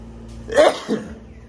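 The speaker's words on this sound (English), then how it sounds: "I'm going to sneeze here." A man lets out a single short sneeze close to the microphone, a sharp burst followed by a quick fainter catch of breath in an otherwise quiet room.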